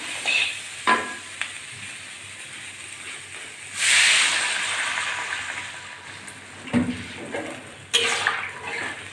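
A pot of tilapia fish curry gravy with eggplant, potato and lentil dumplings boils on the stove, its steady hiss and bubbling broken by louder bursts of steam and stirring clatter, close and with no talk.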